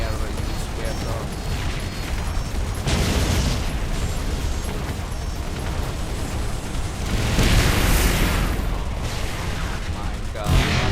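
In a battle, missiles fire and explode again and again in a dense, loud barrage of booming blasts and rumbling bursts that rise and fall without pause, with swelling roars and a heavy low rumble throughout.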